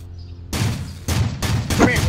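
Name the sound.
gunfire in Roblox Ultimate Driving video game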